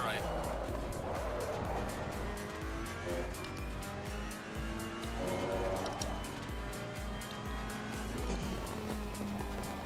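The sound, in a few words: Ferrari 488 EVO engine and tires in Assetto Corsa Competizione game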